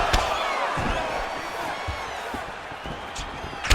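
A video game crowd in UFC 4 roars and murmurs continuously, with sharp smacking impacts of fighters' punches and leg kicks cutting through now and then, loud and close.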